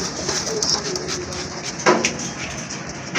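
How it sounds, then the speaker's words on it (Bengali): Pigeons at a sale of colourful fancy breeds give soft, low cooing calls, close by and against a light background hum, with no talking. "কবুতর দেখে আমরা ডাক দেয় কিনা, ডাক এমনি প্রচুর ডাকে।"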